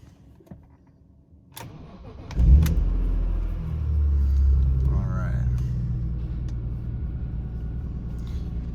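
A BMW E46 M3 engine with an electric cooling fan cranks and starts with a loud rumble, then settles into a steady, close idle.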